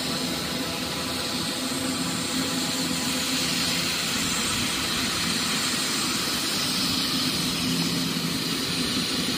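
A fixed-wing airplane passes overhead near an airport in Mysore, its jet roar steady and broad across the whole stretch, loud and continuous with no voices.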